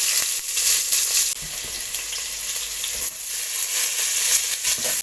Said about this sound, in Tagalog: ilagay na natin ang sibuyas